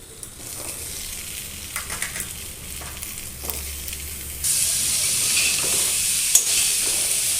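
Chopped pumpkin is added to a pan of frying potato curry, starting with soft stirring and scraping, then a louder, steady sizzle as it hits the hot oil.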